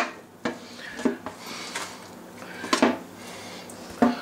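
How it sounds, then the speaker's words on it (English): Slices of roast pork dropped one by one into a metal pan, a few sharp clattering knocks and scrapes spread over a few seconds at close range, with no talk. "I'm gonna put these in the pan."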